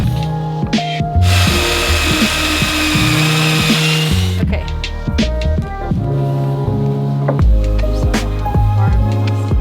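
Loud whining power drill boring pocket holes into wooden boards for a coffee table, with repeated bursts and pauses and a short hissing stretch between them.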